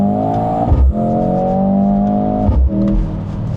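A 2025 Mercedes-AMG GLC 63 S E-Performance four-cylinder engine revs hard in boost mode, loud and close, climbing quickly twice with sharp shift breaks between pulls.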